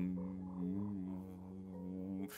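A man hums a low, steady nasal buzz with his mouth, a sustained droning tone lasting about two seconds, close and fairly quiet, alone, with a voice imitating a strange buzzing hum.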